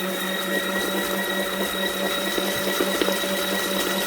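A tiny, cheap portable washing machine runs with a steady motorised whir and sloshing hum, constant and fairly loud from start to finish with a few faint knocks.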